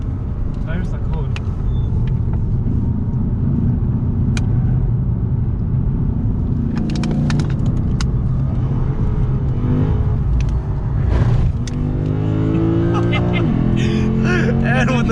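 A Lexus RC F Track Edition is driven on the Nürburgring Grand Prix circuit with traction control off. Heard from inside the cabin, its engine rumbles and rises under acceleration while people talk over it.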